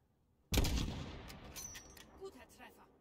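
A sharp gunshot in the video game Call of Duty: Modern Warfare (2019) cracks out after a brief silence, followed by a long rolling echo with faint further pops fading into the distance.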